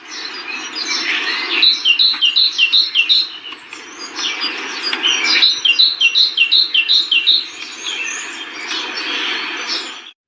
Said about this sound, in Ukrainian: Це шпак